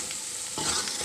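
Garlic and onions fry in a pan with bay leaves while being stirred, a steady close sizzle that swells a little partway through, with no talking.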